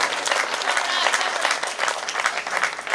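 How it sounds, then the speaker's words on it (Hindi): Loud, dense applause from an audience at a Hindi comic poetry gathering, continuous clapping filling the space without pause. "एक बार जोरदार तालियां बजाकर।"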